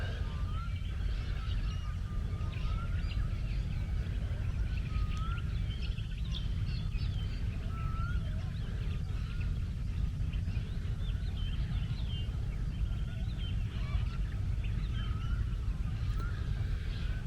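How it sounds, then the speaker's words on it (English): Faint, scattered birds singing at dawn over a steady low background hum at a secluded island anchorage by the sea, several birds calling intermittently. "Can you hear all the birds?"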